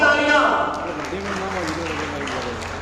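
Audience clapping fills a school award ceremony in Taranagar, a loud dense burst at first that thins into steadier applause, with a voice speaking over it.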